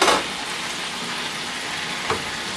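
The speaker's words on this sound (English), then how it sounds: "you can see our carrots are cooking nicely" Sliced carrots cooking in a pan over medium heat give off a dense, even sizzle, louder at the start, with a brief stir or clatter near the end and no voices.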